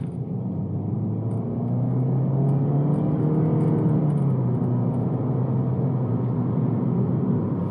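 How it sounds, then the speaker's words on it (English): A 2021 Toyota Corolla XSE with a CVT transmission driving, giving a steady, moderately loud low engine and road drone whose pitch rises slightly midway and then holds, with no voices. "This Toyota Corolla with the CVT transmission is a very good commuter car."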